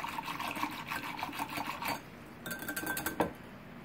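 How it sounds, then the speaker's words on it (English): A wire whisk, twirled between the hands, stirs clay into water for wine making, giving a quick, rhythmic metallic scraping and sloshing that pauses briefly and then resumes. "just take your wire whisk, and I like to twirl it between my hands like this"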